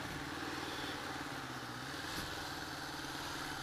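A 1981 Honda CB750 Custom motorcycle engine idles in a steady, even rumble, faint and continuous with no revving.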